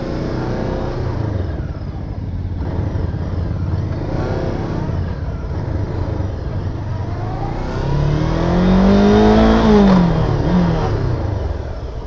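An MBP 502 naked motorcycle accelerates on a test ride, its engine note climbing through rising revs and swelling louder toward the end, with a steady road drone underneath.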